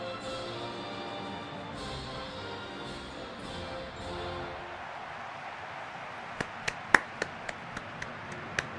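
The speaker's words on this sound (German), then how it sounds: "Und auch an der Stelle hört ihr mich klatschen." Background national anthem music from a FIFA 15 match fades out, then a handful of sharp, irregular hand claps ring out, close and crisp.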